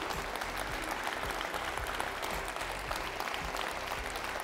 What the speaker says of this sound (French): Je vais vous demander d'applaudir Nao et son papa, Philippe Meurice, à qui j'ai demandé d'approcher.